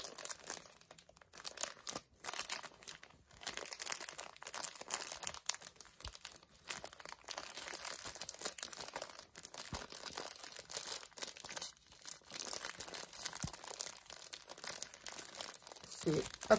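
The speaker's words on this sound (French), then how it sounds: "on va ouvrir la case numéro 12" Paper crinkling and tearing as a compartment of a stim toys advent calendar is opened, a steady busy rustle with scattered crunches throughout.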